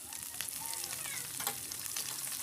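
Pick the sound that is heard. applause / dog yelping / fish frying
fish frying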